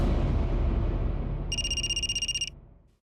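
Telephone ringing indoors in a domestic scene, a single burst of bright electronic trilling lasting about a second over a fading low rumble, moderately loud and close.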